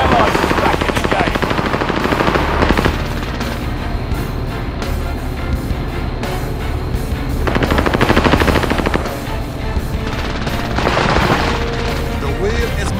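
Sustained machine gun fire in Call of Duty Warzone Resurgence, loud rapid bursts rattling near and continuous with brief lulls, layered over vehicle engine rumble and game effects.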